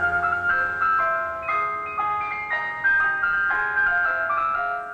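A Whitby Morrison ice cream van plays its chime, a bright, tinkling electronic melody that is loud and close, with stepping notes and no talk over it.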